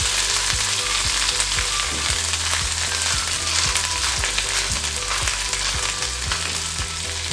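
Pancake batter and a handful of other breakfast ingredients fry in a hot pan for a Denny's-style Super Slam, giving a loud, steady sizzle with occasional stirring clicks and no talking.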